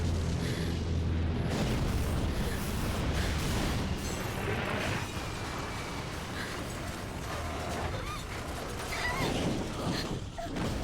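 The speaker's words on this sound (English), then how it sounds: "this game has more explosions and guns than than anything we've seen up to this point" Explosions and gunfire in the PS2 game Clock Tower 3, a dense wash of booming blasts and rumbling battle noise that stays loud and continuous throughout, with no talk over it.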